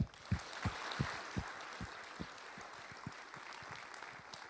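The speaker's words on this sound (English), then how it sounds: "I'd like you to join me in a round of applause for the 3 presenters this morning" An audience at a Royal Australian Navy Sea Power conference session claps for three presenters, with sparse, fairly faint applause and a few distinct louder claps standing out early and then thinning.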